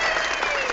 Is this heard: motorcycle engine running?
no